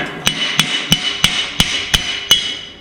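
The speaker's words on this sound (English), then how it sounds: "Alright, so the slide hammer part." A slide hammer strikes metal again and again while straightening a corral gate's steel tube, giving seven sharp, ringing impacts at a steady rhythm, close and loud, with short metallic decays between them.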